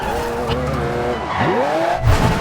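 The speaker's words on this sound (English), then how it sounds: "start drifting in a zigzag motion from the right side of the runway to the left side of the runway" In Forza Horizon 2, a car drifts in a zigzag across an airport runway, its engine roaring continuously while the tires squeal in sweeping, pitch-bending slides up close.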